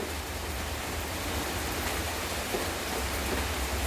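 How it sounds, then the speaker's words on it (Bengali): Light drizzling rain falls on a gray day, a steady, even hiss with no clear individual drops, continuous and unbroken throughout. "ছিপছিপ ছিপছিপ করে বৃষ্টি পড়ে যাচ্ছে"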